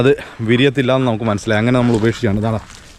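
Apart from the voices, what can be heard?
None of the usual background noises is heard.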